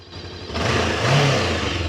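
A Kove 500X motorcycle engine idles and then revs up briefly, a steady close mechanical rumble rising in pitch, with no talking.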